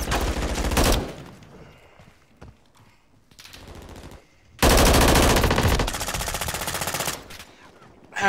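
Bursts of automatic fire from the BAL-27 in Call of Duty: Modern Warfare 3, two long loud sustained volleys separated by quieter gaps with scattered distant shots, heard without talk.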